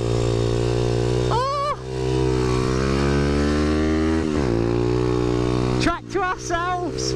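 A supermoto pit bike engine drones steadily at high revs on a race track, its pitch dipping and rising through the corners, with a brief shouted exclamation over it.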